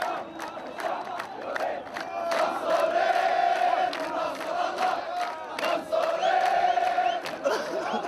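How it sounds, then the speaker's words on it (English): Protest crowd celebrating at the Pearl Roundabout in Bahrain, a continuous roar of many voices with chanting and shouted cries rising and falling, dense and fairly close. "the crowd began celebrating"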